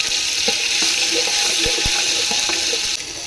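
Masala frying in a pan for mutton dum biryani, a continuous close hiss and sizzle with a few sharp clicks and utensil taps scattered through, easing slightly toward the end.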